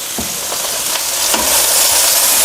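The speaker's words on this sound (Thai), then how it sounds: "ผัดให้ถั่วงอกโดนความร้อนทั่วๆนะครับ แต่อย่าผัดนาน เดี๋ยวถั่วงอกจะไม่กรอบครับ" Bean sprouts stir-frying in hot oil in a pan, seasoned with a little fish sauce; a loud, steady close-up sizzle with a few scraping stirs, no voices.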